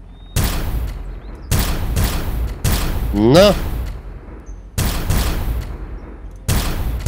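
Weapons fire loudly in the space survival game Empyrion Galactic Survival as repeated bursts of gunfire, each burst lasting about a second with brief pauses between. A voice speaks briefly over one of the volleys.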